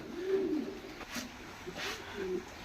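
Pigeons coo softly inside a home loft where ringed birds are kept, two or three low rolling calls in close succession, fairly quiet with faint room noise between them.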